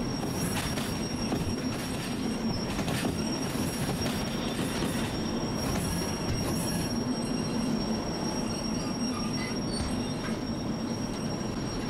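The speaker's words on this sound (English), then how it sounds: "I'm still on throttle and I'm slowing the train down" Steady metallic wheel and brake squeal over a continuous rumble as a locomotive slows under braking in the Derail Valley train simulator game, loud and close throughout with no talking.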